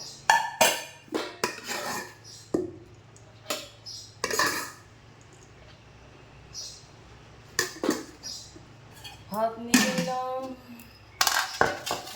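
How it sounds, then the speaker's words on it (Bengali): Metal utensils scraping and clinking against a plate and pot while rice is served in a home kitchen, a series of sharp close clatters separated by quiet pauses. "তো এখন আমি ভাত বেড়ে নিব"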